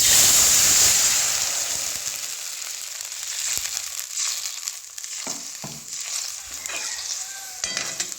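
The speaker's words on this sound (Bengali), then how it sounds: "এবার দিয়ে দেবো সামান্য পরিমাণ জল" Water hits hot oil holding fried black cumin and chili for a Bengali mustard hilsa dish: a loud hissing burst up front that gradually settles into a steady, softer sizzle with a few light scraping stirs.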